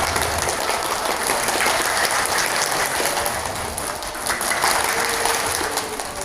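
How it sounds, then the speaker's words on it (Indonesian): Steady, dense applause from an audience at an Indonesian women's event on sukuk and waqf, a continuous wash of many hands clapping at full volume throughout with no talk. "Tepuk tangannya dari ibu semua."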